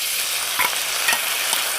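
Ginger garlic paste fries in a pan with lightly fried onions, giving a dense, continuous hiss of sizzling oil with a few faint stirring clicks.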